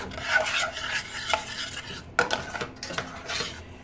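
Cooked beans being mashed in a pan off the heat, heard as repeated scraping, squishing strokes of a utensil against the pan with soft clinks. The strokes come in an uneven rhythm, close and fairly quiet.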